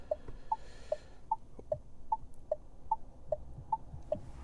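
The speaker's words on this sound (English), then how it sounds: "So that's the sound of the blinkers." Turn signal indicator of a Renault 5 E-Tech electric hatchback ticking inside the cabin, a steady, soft, evenly spaced click about every 0.4 seconds, alternating slightly in tone, over quiet road hum.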